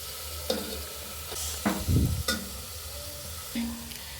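Beetroot palya fries gently in a pan over a low flame, giving a soft continuous sizzle broken by a few clanking stirs of a spoon, heard up close with no talking.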